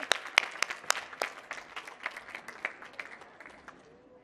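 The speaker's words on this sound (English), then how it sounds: "Give these guys a round of applause." A lively round of applause from an audience at a Latin and ballroom dance class, dense clapping starting loud and gradually thinning and fading over a few seconds, with no talk.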